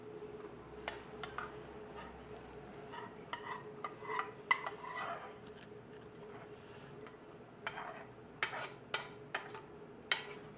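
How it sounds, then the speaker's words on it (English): A spoon stirring mashed potato into cheese sauce for a potato pie, soft scraping with scattered sharp clinks against the bowl, quiet and close. "So we just want to evenly mix our cheese sauce into the potato"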